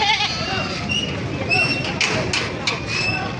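Goats bleat at a livestock market in Padre Garcia, Batangas, with a buck among them; short wavering cries rise over a steady crowd murmur while people talk nearby.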